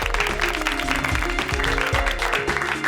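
Applause for Manav after a children's race on a TV show, a short burst of clapping over a rhythmic backing beat with a low pulsing bass.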